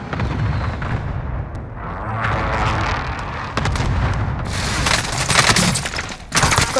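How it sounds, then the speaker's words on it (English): Gunfire in Call of Duty: Warzone, with dense bursts of shots and booming impacts throughout, growing louder and sharper toward the end, with no speech. "Hey, so we're getting shot from somewhere."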